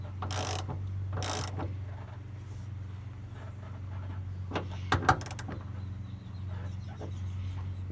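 A ratchet snugs down a nut on the starter solenoid of a Ford F-250 with a 7.5L 460 big block, giving faint, sparse clicks and a few scrapes over a low steady hum in a quiet garage.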